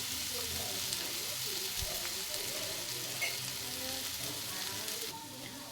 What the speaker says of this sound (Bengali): এইভাবে গ্যাসটা আস্তে দিয়ে ভালো করে আদা রসুনটাও ভেজে নেব।